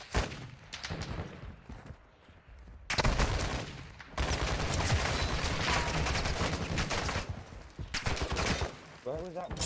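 Gunfire in Call of Duty DMZ: dense bursts of automatic rifle fire and rapid shots, loud and close, broken by brief pauses, with a voice talking over it.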